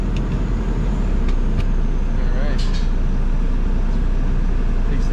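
A Saab car with a newly replaced coolant expansion tank drives on a short test ride, its low steady road and engine rumble loud and close from inside the cabin, with a few faint clicks.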